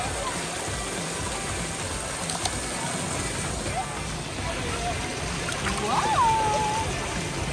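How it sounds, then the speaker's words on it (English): Water splashing at a water park, a continuous rushing and splattering wash of flowing water with voices faintly mixed in and a brief high whistle-like tone near the end. "Splashing."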